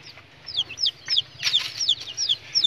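A red junglefowl hen, newly trapped and kept with her chicks, clucks in quick, close repeated calls, with high chick peeps running through the brief sequence.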